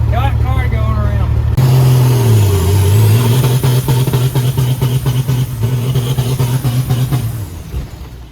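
A car or truck engine runs and revs steadily at close range, its pitch dipping and rising as it drives around, with a shift in gear partway through and voices talking over it.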